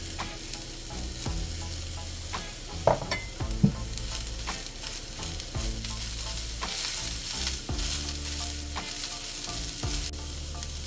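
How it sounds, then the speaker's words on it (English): Broccoli added to sautéed mushrooms in a pan for a breakfast frittata, frying with a loud, continuous close sizzle and occasional clattering stir strokes, heard alone over a background hum. "Next, add in broccoli and continue to cook for another 2 minutes."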